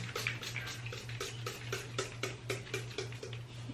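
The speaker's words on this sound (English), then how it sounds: "so I'm gonna get my spray bottle and just wet the hair" A hand spray bottle wets a curly lace front wig in quick repeated trigger squirts, each a short soft hiss in a steady rhythm over a low constant hum.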